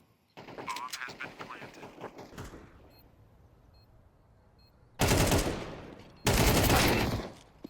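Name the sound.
gunshot in the video game Counter-Strike 2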